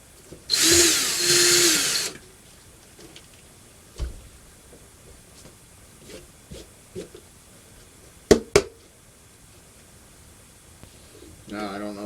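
Hand drill spinning in reverse while working on a Polar Lights flying saucer model kit, a loud whirring burst of about a second and a half, then quieter clicks and handling taps with brief speech.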